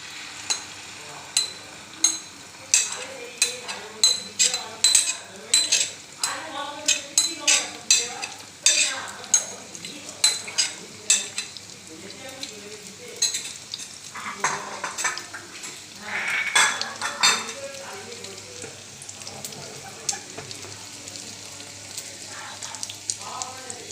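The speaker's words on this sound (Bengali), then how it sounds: "এবার তেলটা মোটামুটি গরম হয়ে এসেছে, আমি এর মধ্যে এই গোলাটা দিয়ে দেব।" Puffed rice omelette batter fries in hot oil in a pan, with a close, steady sizzle and a run of rhythmic scrapes and utensil clinks against the pan.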